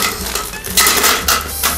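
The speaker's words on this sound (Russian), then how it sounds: "забрасываем лед в блендер" Ice cubes tossed into a blender jar for homemade lemonade land in a few loud, clattering bursts of hard ice against the container, close and with no talk.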